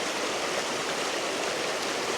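A river swollen after rain rushes rapidly along the Pennine Way, producing a loud, continuous roar of turbulent water close by, with no voices.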